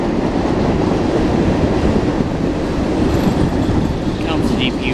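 A loaded freight train with distributed power locomotives rolls past close by, a dense, continuous rumble and rattle of wheels and cars that holds steady for five seconds.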